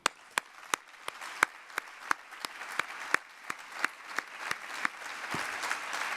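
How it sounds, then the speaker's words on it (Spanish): Applause for the Valencia College of Physicians at the opening of a medical profession convention: a hall of clapping that builds and thickens, with a few sharp, loud nearby claps standing out at a regular beat. "también un aplauso muy especial para el Colegio de Médicos de Valencia"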